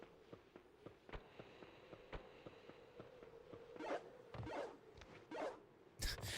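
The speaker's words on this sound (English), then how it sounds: "why they chose his jumping sound to be like a walkie-talkie clicking" Pac-Man's jump in the PS2 game Pac-Man World 3 gives short, dry clicks like a walkie-talkie key, repeating in a steady run at moderate level, with louder bursts of game noise near the end.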